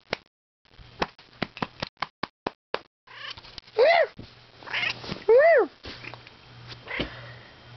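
A house cat lets out a few drawn-out, wavering meows up close, following a run of sharp clicks and taps from handling near the microphone.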